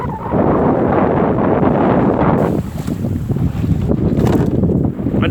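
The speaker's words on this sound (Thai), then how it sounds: "ลมอีกแล้วครับคลื่นใหญ่" Strong wind buffets the microphone aboard a small crab-netting boat at sea as big waves slap and surge around the hull, loud and close, with gusts swelling and easing throughout and no talk.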